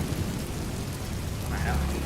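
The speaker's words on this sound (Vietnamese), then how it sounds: "Đang mưa kìa, thấy chưa?" Rain pours down outdoors in a steady, dense hiss, with a faint low rumble underneath and brief muffled voices mixed in.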